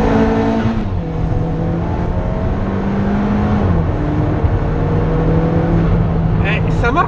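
An Alfa Romeo 4C turbo engine pulls hard from inside the cabin, a loud steady drone with rising tones, while the occupants talk over it throughout.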